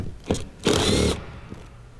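A 10mm bolt being worked loose with a hand tool on the rear seat of a hybrid car: a brief mechanical burst, then a longer grinding stretch of about half a second, close and fairly loud, with no voices.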